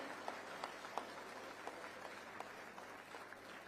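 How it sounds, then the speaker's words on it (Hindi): At an agricultural cooperative conference and award ceremony, a distant audience applauds to welcome the Chief Minister, a faint, steady patter of clapping with a few louder claps standing out. "सभी लोग तालियां बजाकर अभिनंदन"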